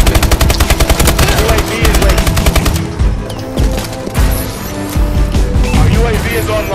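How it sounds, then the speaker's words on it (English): Loud, rapid automatic gunfire from an unsilenced weapon in the Call of Duty: Advanced Warfare multiplayer match, a dense stream of shots followed by bursts and booms of battle. "This fucking idiot sitting here just shooting away at it with an unsilenced weapon."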